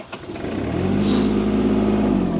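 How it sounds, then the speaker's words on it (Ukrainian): A small Kubota KL340 tractor diesel engine cranks briefly, then catches and settles into a steady, even idle close by. "Заводиться тракторець півоберту, працює дуже гарно, дуже рівно."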